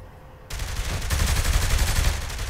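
Sudden loud gunfire erupts in Saints Row: The Third, a rapid continuous rattle of shots close up that starts abruptly after a brief quiet moment and keeps going.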